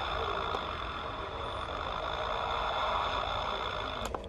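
A Halloween store prop imitating a diesel truck starting, giving a steady, continuous engine-like rumble and hum at moderate level, with a faint click near the end and no talking.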